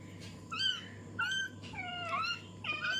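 Newborn puppies give thin, high, wavering whimpers and squeaks in several short bursts, close by and fairly soft, over a low steady hum.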